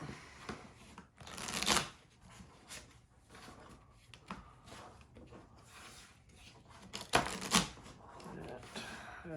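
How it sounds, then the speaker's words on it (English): A deck of pro wrestling promoter game cards gets shuffled by hand in bursts of riffling and rubbing, loudest near the start and again toward the end, with quieter card handling in between. "we'll give the deck of wrestler cards one more shuffle and dole out our starting market"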